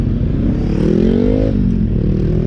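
A motor vehicle engine drones loudly nearby, its pitch rising then dropping as it passes, like a motorcycle going by.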